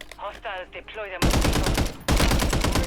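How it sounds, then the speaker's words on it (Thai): Gunfire in the Warzone video game: dense, loud rapid bursts that suddenly swell into sustained automatic fire after a quieter stretch of background game noise. "มีคนยิงนะฮะ"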